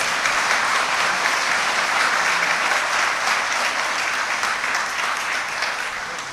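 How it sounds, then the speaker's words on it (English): A graduation-ceremony audience applauds a quartet with dense, sustained clapping that fills the hall steadily for several seconds and eases slightly at the end, with no talking over it. "Give the quartet another round of applause."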